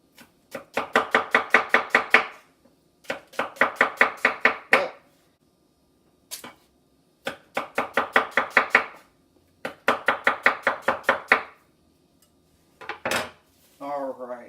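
A knife slices through an onion on a cutting board in rapid rhythmic bursts of sharp taps, four quick runs separated by short pauses, close and crisp, followed by a few scraping chops.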